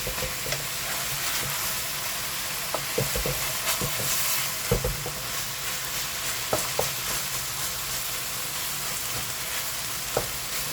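Bitter gourd (ampalaya) and onions fry in a pan with a steady, loud sizzle, while a utensil stirs and scrapes through the vegetables with irregular knocks throughout.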